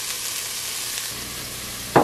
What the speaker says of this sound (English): I'm just going to cook the peppers until soft